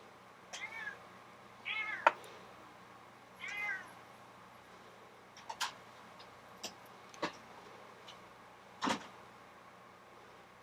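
A pet cat meows repeatedly in complaining, drawn-out cries, about half a dozen close calls spaced a second or two apart over a quiet indoor background with faint ticks.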